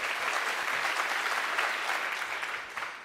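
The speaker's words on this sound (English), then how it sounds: "the second noise I need is a round of applause" At a hackathon award ceremony, an audience gives a loud, full round of applause on cue, steady and close, then it tails off slightly at the end.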